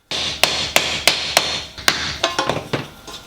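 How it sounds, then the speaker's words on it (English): A hammer taps plastic grommets into a barn door rail through a wooden dowel, repeated sharp blows, about a dozen strikes, steady at first then quicker, close and fairly loud with a ringing tail. "These just hammer into place"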